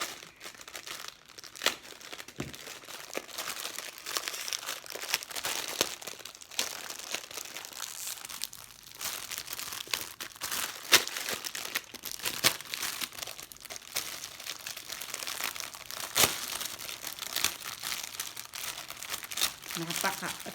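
Crinkling and tearing of plastic and paper packaging as an Amazon parcel is unwrapped, with steady rustling and occasional sharp rips close by, while a person talks intermittently over it.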